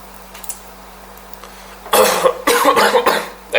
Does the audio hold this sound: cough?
yes